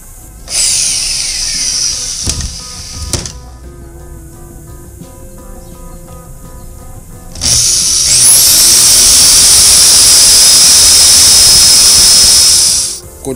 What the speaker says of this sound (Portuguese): Primeiro eu vou ter que furar bem no centro aqui, uma broquinha de 3 milímetros